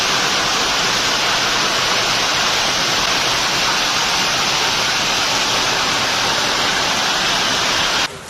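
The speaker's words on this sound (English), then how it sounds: "a downpour began over the city" A heavy downpour falls over a city in Małopolska, Poland, during a hailstorm that floods the streets. Rain and rushing water make a dense, loud, unbroken roar that stops abruptly at the very end.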